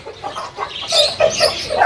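An Aseel rooster of about 3.5 kg clucks close by at a market in a short series of throaty, uneven calls, with no talking.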